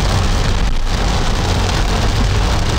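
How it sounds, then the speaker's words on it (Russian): A loud, steady downpour roars without pause on Crete, Greece, heavy rain drumming on surfaces nearby with no voices. "Ну все, ливануло так ливануло."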